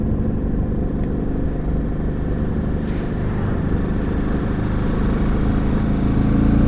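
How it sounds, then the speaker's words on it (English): A Royal Enfield Himalayan 450 motorcycle with little exhaust system rumbles steadily while being ridden, its engine note low and continuous under heavy wind buffeting, the level rising slightly toward the end; no speech. "Not sure how much you're going to get to hear from the engine note because it doesn't have much of an exhaust system on it."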